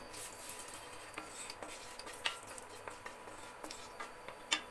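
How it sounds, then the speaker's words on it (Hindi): A spoon scrapes and clinks against a pan while dried red chilli and bay leaf are stirred into a dal tadka tempering, with soft repeated metallic taps and scrapes at a low level and no talking. "सारा कुछ को अच्छे से हम इसमें मिला लेंगे"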